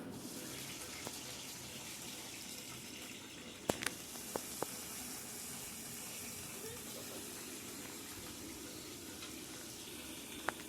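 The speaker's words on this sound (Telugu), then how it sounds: "మంచి నూనె పోసి విరగదీసి పెట్టుకున్న పచ్చిమిర్చి వేయించుకోవాలండి" Broken green chillies fry in a few spoons of oil in a pan, giving a faint, steady sizzling hiss with a few sharp pops and crackles.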